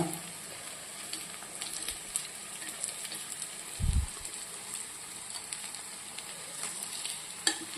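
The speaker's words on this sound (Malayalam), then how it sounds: "ഒരു മീഡിയം ഫ്ലെയിമിൽ വെച്ചിട്ട് നമുക്ക് ഇത് ഉണ്ടാക്കിയെടുക്കണം" Unniyappam fry in oil over a medium flame, giving a steady close sizzle and crackle throughout, with a brief low thump partway through.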